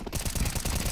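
Rapid gunfire from an automatic weapon in Counter-Strike 2, a dense burst of loud, evenly spaced shots filling the whole second with no talk over it.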